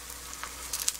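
Egg frying in a hot cast-iron pan, a faint, soft sizzle with a few brief crackles over quiet background hiss.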